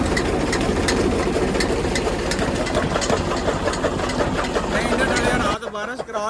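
A tractor engine chugs loudly and steadily in a village farmyard, driving a fodder chopper with a fast, knocking rhythm. Near the end it cuts out and a voice speaks.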